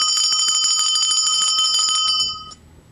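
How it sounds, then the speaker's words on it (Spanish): A bell rung on a radio program in Ibagué, Tolima gives a loud, fast run of bright metallic strikes for about two seconds, then rings out and fades into quiet. "Bueno, campana."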